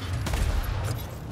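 A Skaven gunner's rattling volley of gunfire in Warhammer Vermintide pours out as a dense, continuous burst over a low rumble, loud and sustained for a moment, with no voices over it.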